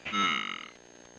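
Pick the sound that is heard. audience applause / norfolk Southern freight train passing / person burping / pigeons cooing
person burping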